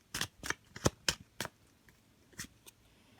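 Tarot cards shuffled and drawn, a run of crisp riffling bursts in quick succession followed by a couple of softer, sparser card snaps, close and fairly quiet with no talking.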